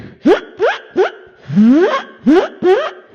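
A beatboxer's vocal imitation of a zip, delivered as a handful of quick rising swoops, with one longer drawn-out sweep in the middle, close and clear with no talking.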